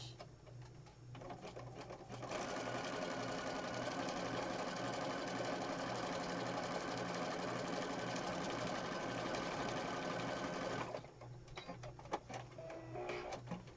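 Sewing machine running a zigzag stitch on a junk journal page, a steady, close mechanical whirring and rhythmic needle chatter held for about nine seconds between quieter stretches of handling.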